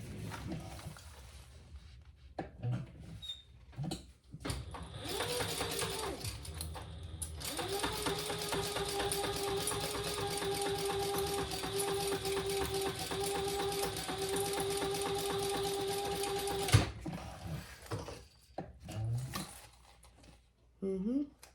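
A sewing machine stitches a full seam allowance on a fabric train case, running steadily for about ten seconds between shorter start-stop bursts, with a person talking around it.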